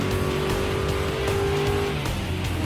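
An Aston Martin Vantage Group 4 race car in Gran Turismo Sport drives hard with a loud, steady engine roar and tire squeal, close and continuous with no talk.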